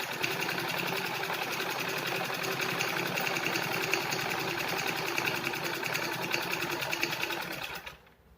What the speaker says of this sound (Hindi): इस तरह से हमने इसको डबल फोल्ड करके पाइपिंग को सेट करके सिलाई लगा देनी है